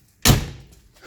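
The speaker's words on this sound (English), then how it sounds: "Let me just kick this one shut." A car door kicked shut, one sudden heavy slam with a short thud that fades quickly, close by with no talking.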